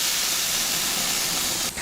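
A plant-based imitation burger patty sizzles on a flaming grill with fat dripping, a loud, steady, close hiss that drops off briefly at the end.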